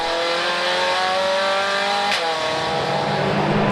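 Racing cars at a circuit roar past, a BMW with a 3.2-litre engine and a 2-litre turbo Seat, the steady loud engine drone rising in pitch, with a brief whoosh of a car passing close partway through.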